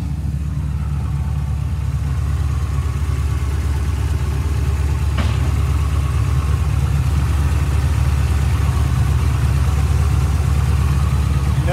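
Jeep fitted with nitrous and all-wheel drive idles nearby with a steady, loud mid-to-low engine drone that holds throughout, with a faint click partway in.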